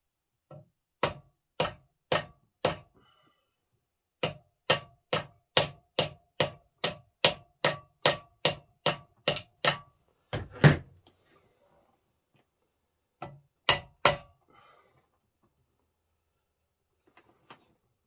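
Sharp metal taps from a hammer driving a tight pin during a LESU 374 model build, struck in two rapid runs of about ten evenly spaced blows each, then a few scattered harder hits, close and clear with no talking.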